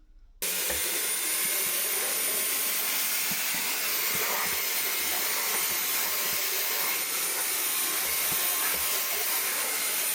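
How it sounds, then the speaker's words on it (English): A Vax HandVac Pro handheld vacuum cleaner sucks up moist, mushy debris, giving a loud, steady, airy whine that runs unbroken, with faint crackles as material is drawn in. "So let's see if it sucks it up, and then hopefully it does."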